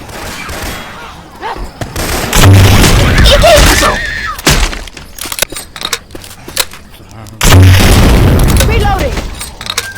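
Gunshots in Left 4 Dead 2 with Syphon Filter weapon sounds swapped in: heavy booming blasts and quicker shot bursts over a busy game soundscape, with voices talking in between.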